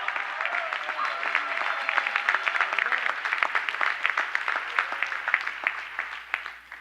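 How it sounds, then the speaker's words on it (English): An audience claps for school principals standing at a high school rededication ceremony in Fairfax County, steady dense applause with scattered louder claps, some voices mixed in, thinning toward the end. "Please stand and let's applaud them."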